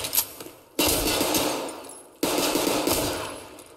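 Sustained automatic gunfire in the shooter game Escape From Tarkov: two long, loud bursts of rapid shots, each cut off sharply, with a short pause between them.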